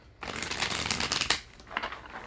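Tarot cards shuffled in a steady riffling burst during a love reading, a dense papery flutter near and fairly loud for about a second before tapering, with a shorter shuffle near the end.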